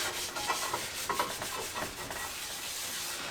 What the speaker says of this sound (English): So I really try to get all that oil up and really rub it in there.